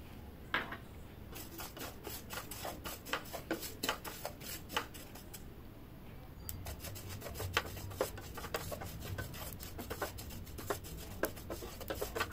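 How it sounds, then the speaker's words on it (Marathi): Sesame seeds, with a spoonful each of fennel and cumin, dry-roasting in a pan, giving a soft continuous rasp and rustle of stirring with light scraping ticks, steady and close, without talk. "तर सुरुवातीला आपल्याला तीळ भाजून घ्यायचे आहेत।"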